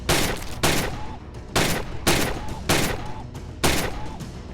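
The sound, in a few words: gunshots in VR shooting video game Gun Club VR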